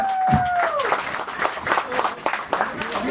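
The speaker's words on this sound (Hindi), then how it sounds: "हमारे लिए पहले प्लीज तालियां बजा लीजिए प्लीज।" Guests clap at a sangeet wedding ceremony, with uneven bursts of applause and crowd noise mixed with voices and some music-like tones, fairly close and lively.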